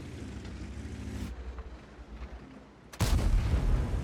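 A heavy tank cannon blast in World of Tanks, a deep booming shot with rumbling low engine noise before it and a loud thudding burst near the end.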